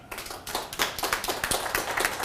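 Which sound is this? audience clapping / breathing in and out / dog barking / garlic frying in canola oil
audience clapping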